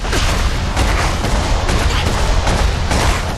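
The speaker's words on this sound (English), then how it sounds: "new upgrades for your paddle ball that let it launch nuclear explosions into enemy forces" Rapid overlapping blasts of nuclear explosions launched by an upgraded paddle ball in a video game, a dense, loud, continuous barrage of booms and gunfire-like bursts rolling without pause.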